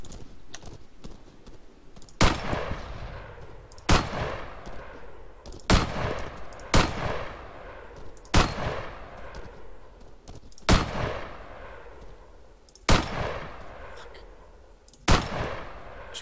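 Single rifle shots from Arma 3 ring out about every two seconds, around eight sharp, loud reports each followed by a short echoing tail, with no talking.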